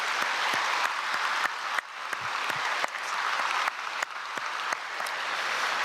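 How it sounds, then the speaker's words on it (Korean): A large church congregation at a Sunday service at Myungsung Church claps together in sustained, even applause. The dense wash of clapping is broken by a few sharper individual claps and continues without pause throughout. "우리 크게 박수로 축복하겠습니다"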